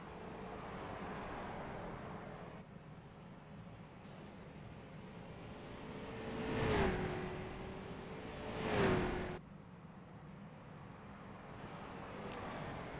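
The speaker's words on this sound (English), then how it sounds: "He'll come down across the straight to put his first of 2 lap attempts." A street stock race car lapping Knoxville Raceway on a qualifying attempt is a faint, distant engine drone that swells twice into louder passes and then fades back to a low hum, with no voices.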